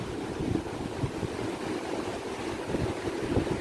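Strong wind from a heavy rainstorm blowing off the sea in Mindanao roars steadily and loudly in a dense, unbroken rush with rumbling gusts buffeting the microphone, and no voices are heard.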